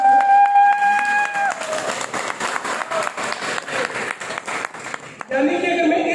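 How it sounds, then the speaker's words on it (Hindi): Applause from a seminar audience for a project sounds as a dense, sustained clatter of many hands clapping, loud and close. A voice speaks at the very start and again at the end. "जोर से ताली बजाइएगा प्रोजेक्ट के लिए"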